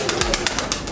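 Fancy pigeons coo at a pigeon farm, a short burst of soft close calls among rhythmic clicking noises.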